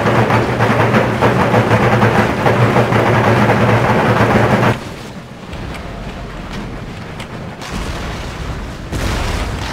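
Cannon fire in a battle of Empire: Total War's American independence campaign: a loud, dense booming roar fills the first half, then drops abruptly to quieter rumbling battlefield ambience with a brief swell near the end.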